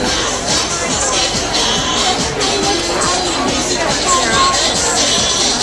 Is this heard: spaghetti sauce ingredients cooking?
no